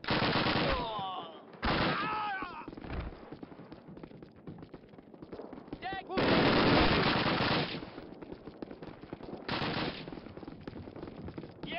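Gunfire from the Call of Duty video game rattles in long, loud automatic bursts and shorter volleys, close up, with a voice talking between and under the shooting.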